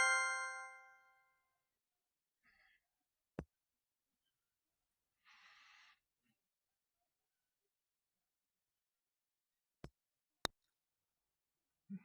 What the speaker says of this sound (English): My phone keeps on going off.